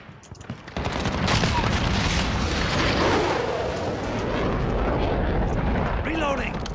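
Explosions from artillery fire in a video game, a dense roaring barrage of booms that rises quickly and rumbles on without a break, with voices talking over it.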